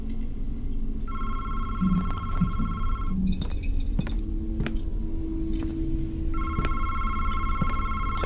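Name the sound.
telephone ringing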